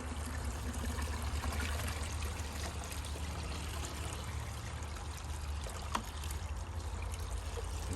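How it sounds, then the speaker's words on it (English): Smelly liquid pours steadily into a lawn drainage system, a continuous close trickling stream of water-like flow lasting throughout, with a brief knock near the end. "I just simply pour it in there, so we don't get no excess"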